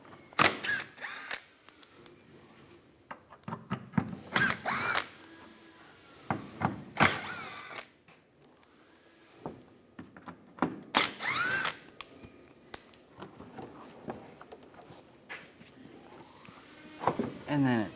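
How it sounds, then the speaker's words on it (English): Power drill fitted with a T30 socket backing out headlight screws on a 2015-2019 Lincoln MKC, heard as repeated short whirring bursts of the motor separated by pauses and handling noise, close by. "Now I'm going to use a T30 socket. Take all the screws out."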